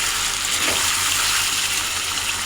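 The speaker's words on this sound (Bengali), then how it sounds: "এই যে মাংসটা কষিয়ে নিচ্ছি" Meat and potatoes sizzle steadily in a hot pan as they are slow-fried for kosha at home, a continuous hiss and crackle with no voices.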